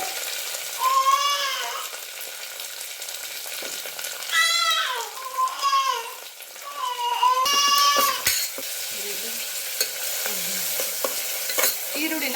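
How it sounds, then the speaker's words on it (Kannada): Green chillies, mint, coriander leaves and onion frying in a pan give a steady close sizzle with stirring, while a bird twitters in bursts nearby. "ಫ್ರೈ ಮಾಡ್ಕೊಂಡ್ಬಿಡೋಣ"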